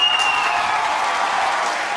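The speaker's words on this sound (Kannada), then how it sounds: "ಕೈಗಳು ಚಪ್ಪಾಳೆ ತಡ್ತಾ ಇದೆ" A TV studio audience gives a broad, sustained round of hand clapping, loud and even, with a faint tonal whistle briefly riding over the start.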